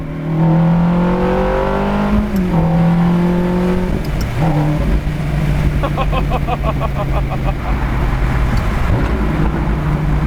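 A Ferrari with a gated manual gearbox runs loud and close, its engine droning and then blipping sharply as the driver heel-toes through a downshift, followed by fast rattling revs and a renewed steady pull.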